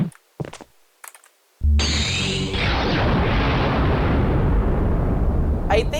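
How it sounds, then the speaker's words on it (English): Franko's Proton Cannon attack in a MUGEN fighting game: a few short clicks and blips, then a sudden loud charging burst that swells into a sustained roaring beam blast lasting several seconds. "Franco has a Proton Cannon, and it's not good."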